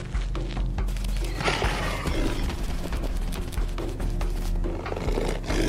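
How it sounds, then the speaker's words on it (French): A lion in the Zambian grassland letting out deep, rumbling roars and growls at close range, set against a dense, continuous low background rumble. "Un lion apparaît."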